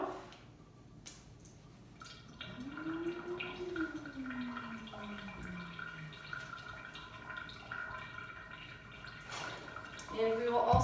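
Sink tap water runs and splashes over a glass microscope slide being rinsed after staining, a soft trickling wash under a person's nearby talking.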